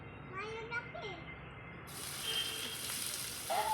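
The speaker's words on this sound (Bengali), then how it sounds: "এবার তেল দিয়ে পেঁয়াজ, লঙ্কা আর ক্যাপসিকামটা ভেজে নেব" Onion, chili and capsicum hit hot oil for chowmein, breaking into a loud, steady sizzle after a brief stretch of quiet speech.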